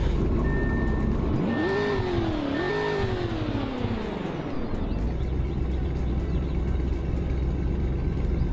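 A daily driver car in the Roblox game Greenville, its engine tone rising and falling as it revs while a repeating beep chirps over it, then settling into a steady low rumble.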